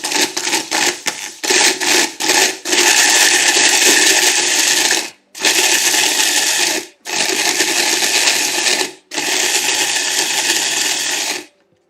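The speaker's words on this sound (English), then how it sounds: "I'm just going to put some more, blend it a little bit more." An electric blender crushes cookies in loud, sustained bursts of grinding whirr. Short stuttering pulses come first, then longer runs broken by brief pauses, all close and with no talk.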